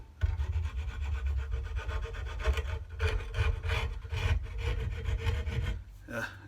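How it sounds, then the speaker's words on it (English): A dull, rusty hacksaw saws steadily in quick back-and-forth rasping strokes, close and continuous for several seconds before stopping. "I have a hacksaw."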